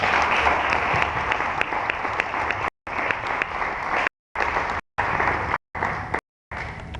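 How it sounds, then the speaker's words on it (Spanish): An audience at a book presentation applauds, a dense wash of many hands clapping steadily, broken by several abrupt silent cuts. "Sin más, un aplauso para David, por favor."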